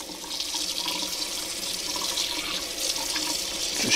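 Slightly warm tap water runs from a faucet to rinse the parts of a Penn Pursuit spinning fishing reel, a continuous close splashing hiss that swells a little toward the end.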